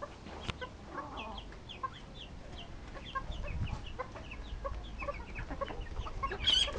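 Chickens cluck in a mixed flock of seven small birds and thirteen large ones, with overlapping short clucks and calls at close range over a low background rumble and no talk.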